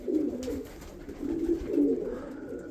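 Soft, low pigeon cooing repeats in a few throaty phrases, fairly close, with faint background noise and no talking.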